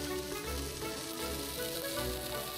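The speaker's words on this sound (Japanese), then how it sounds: "名物鶏焼きが来た。 ジュージュー言ってる。" Steady crackling sizzle of chicken frying on a hot plate at a Tokyo restaurant, continuous and close, with a low hum underneath.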